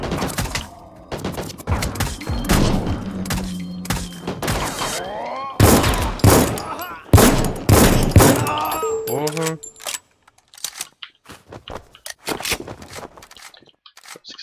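Rapid bursts of gunfire in the video game RICO crack in clusters, mixed with clanks, scrapes and game effects, while someone talks over the action.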